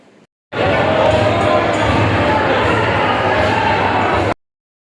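A dense crowd at the Mahakaleshwar temple in Ujjain makes a loud, continuous murmur of many overlapping voices that starts and stops abruptly.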